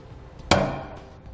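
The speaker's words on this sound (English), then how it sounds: "we're going to go ahead and use a center punch to ping that to make it easier when drilling" A center punch struck against metal to mark a drill spot on a truck bed for a sliding fifth wheel hitch mount, one sharp close ringing hit that decays quickly.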